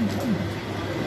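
Pigeons coo at a bird market, several soft rising calls close by in a brief burst over a steady background murmur.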